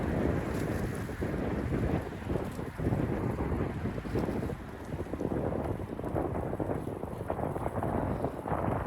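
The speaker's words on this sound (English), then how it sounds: "I wonder if you can hear the wind." Steady wind blows by open water, rumbling continuously against the microphone as a loud, unbroken rush with no voices.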